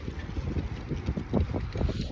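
Gusty outdoor wind buffets the microphone in low, uneven thumps and rumbles, close and fairly strong throughout.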